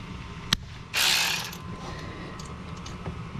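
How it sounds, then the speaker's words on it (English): An electric 3/8 ratchet fitted with a 7 millimeter socket on a Saturn Outlook during an alternator replacement gives a sharp click, then a loud burst of ratcheting whir, then quieter mechanical clicks. "I'm going to go ahead and put a 7 millimeter onto a 3/8 adapter, so that way I can use my electric ratchet"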